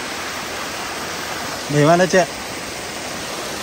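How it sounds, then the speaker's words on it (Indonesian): A waterfall at Jami Tompobulu running low, with little water flowing, gives a steady, even hiss of rushing water throughout, and a voice speaks briefly in the middle. "Air terjunnya lagi surut"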